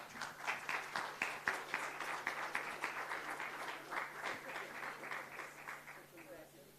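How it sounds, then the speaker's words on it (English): A conference audience at a workplace awards ceremony applauds steadily in a hall, dense clapping close and loud for the whole stretch and fading slightly at the end, with no talk over it. "They definitely deserve a round of applause."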